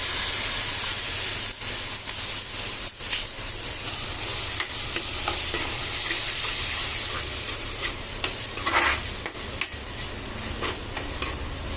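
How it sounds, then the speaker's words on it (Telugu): Freshly ground ginger-garlic paste dropped into hot oil in a curry pan, a strong steady sizzle broken by clinks and scrapes of a stirring spoon, heard up close with no talk. "ఇప్పుడు ఈ మిక్సీ పట్టుకున్నాం కదా ఈ పేస్ట్ వేసుకుంటాం"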